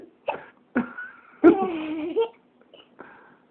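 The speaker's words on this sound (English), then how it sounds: "It was hiccups." A young child hiccups several times, sharp short jolts spaced unevenly, one stretching into a brief vocal squeak, close and fairly loud in a quiet room.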